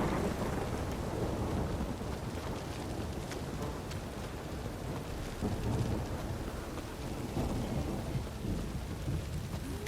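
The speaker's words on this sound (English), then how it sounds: "A storm, damn it." A thunderstorm in The Witcher 3 video game: steady heavy rain hisses throughout with low rolling thunder rumbling underneath, continuous and enveloping with no voices.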